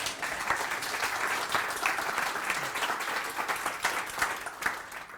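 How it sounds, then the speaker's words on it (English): A conference audience at a Clearvision-CM live event claps for a speaker, steady moderate applause with individual claps standing out in the mix, a low voice murmuring beneath. "Round of applause, please."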